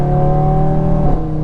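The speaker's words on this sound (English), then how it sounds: "And you get the intake noise and the exhaust noise." Intake and exhaust sound of an Audi RS3 at light throttle, a steady droning engine tone with strong low harmonics, held close and continuous with a slight pitch shift near the end.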